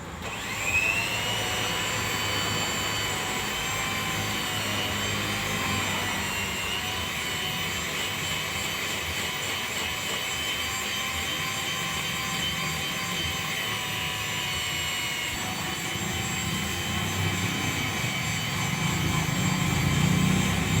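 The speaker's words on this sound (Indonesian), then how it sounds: "perhatikan kita menggunakan mixer ya dengan kecepatan terendah. Kita gunakan kecepatan 1 aja ya." An electric mixer runs steadily at its lowest speed, kneading martabak batter with a constant whirring hum that stays even and moderately quiet throughout.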